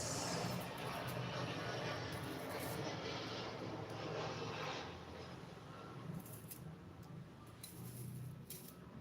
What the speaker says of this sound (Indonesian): Pesawat guys.